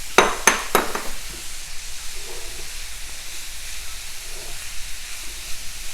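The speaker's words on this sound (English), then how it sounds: "now we can put the peas. It's a half a cup of peas and a half a cup of broccoli." Peas and broccoli hitting a hot breakfast skillet with potato and egg, a few sharp clatters as they drop in, then a steady close sizzle and hiss that continues alone.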